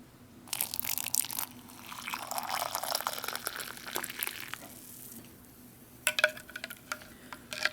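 Coffee stirred in a plastic MRE cup from a 1995 halal/kosher cheese tortellini ration, with sugar and creamer added; close scraping and crunchy rustling, soft liquid swishes, then sharper clinking taps near the end.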